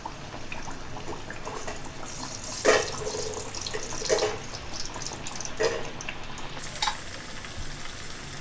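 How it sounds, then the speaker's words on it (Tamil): Black urad dal vada batter hits hot oil with a continuous bright frying hiss, and a few louder bursts of crackle and splatter surge up as the pieces go in, with no one talking. "எண்ணெய் காஞ்சிருச்சு அதில் போட்டுக்கலாம்"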